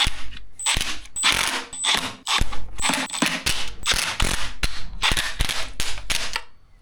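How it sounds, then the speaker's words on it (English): Bursts from a power wrench running bolts down during assembly of a Land Rover Discovery 4 SDV6 engine, a rapid string of sharp impact-like rattles in short repeated runs with brief gaps, loud and close, no talking. "You got them started, you can use the power wrench."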